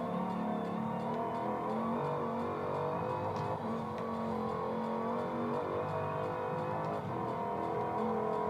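Steady engine drone from a Dodge muscle car, Hellcat or '69 Charger R/T, in a street-racing video game, a sustained rumbling note held at high revs through a corner with no talk over it.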